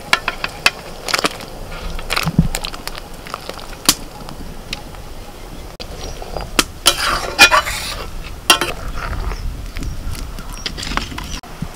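Paneer cubes dropped into a hot pan for paneer butter masala, giving scattered clatters and knocks over a light, steady frying sizzle, with no one talking.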